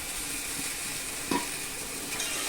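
Taro stems and potatoes fry in hot oil in a pan with salt, turmeric and chilli powder, giving a steady quiet sizzle broken by one brief clink of stirring.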